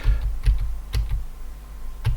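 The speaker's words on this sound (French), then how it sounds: "avec la flèche droite du clavier" Arrow key presses on a computer keyboard, several sharp distinct clicks spaced irregularly over a couple of seconds, close and fairly loud with no talking.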